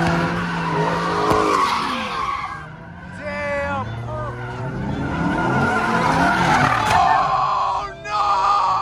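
A car in a Chicago street race skids with long, loud wailing tire squeals, sweeping up and down over a running engine, while people shout and scream excitedly throughout.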